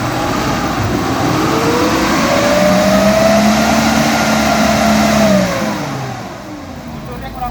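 An off-road car engine revs up as gas is applied, climbing in pitch, holding a loud strained whine for a few seconds, then easing off and settling back toward idle.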